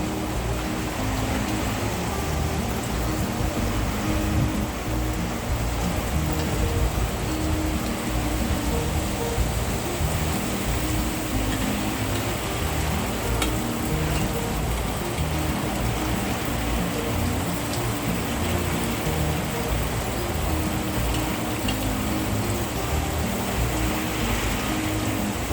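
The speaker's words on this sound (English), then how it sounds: "we're going to go ahead and throw the tuna steaks on now" Tuna steaks sizzle and hiss on an outdoor grill, a steady broadband crackle that stays even and close for the whole stretch, with no talking.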